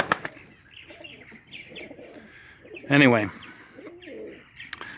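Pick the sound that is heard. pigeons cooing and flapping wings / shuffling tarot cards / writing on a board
pigeons cooing and flapping wings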